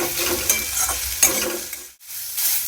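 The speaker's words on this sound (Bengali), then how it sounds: "আর এবার হলুদটাকে একটু ভেজে নিয়ে জল দিয়ে দিলাম" Ash gourd sizzles loudly in a pan with green chillies and turmeric, a bright, close crackling fry with a few stirring scrapes, briefly dropping to near silence before the sizzle returns.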